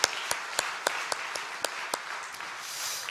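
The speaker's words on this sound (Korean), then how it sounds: "이분들의 수고를 우리 박수로 한번 부탁할까요?" Church congregation applauds during a Wednesday dawn prayer service, a short burst of steady group clapping with rhythmic sharper claps standing out, fairly close and alone.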